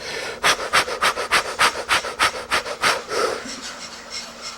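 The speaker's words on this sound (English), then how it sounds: "Let's hear some breathing. Come on, a little more breathing." Heavy rhythmic breathing close by, about a dozen quick loud panting breaths in an even pulse, then trailing off into one longer, softer exhale.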